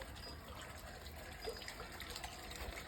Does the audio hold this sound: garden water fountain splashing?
yes